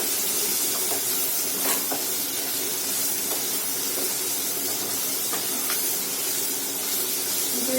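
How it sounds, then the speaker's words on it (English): Steady loud sizzle and hiss of drumsticks (the vegetable) frying in hot oil for a Kerala prawn curry, with occasional faint clicks of stirring throughout. "Into this I'm going to add drumsticks. Going to mix it properly."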